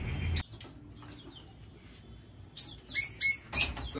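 Lovebirds in an indoor colony chirping: a few short, bright bursts of sharp tweets close by after a quiet stretch.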